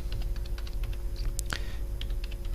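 Keys clatter on a computer keyboard as a network routing command is typed: a quick run of close, crisp clicks with brief gaps, a sharper burst partway through, and no talking.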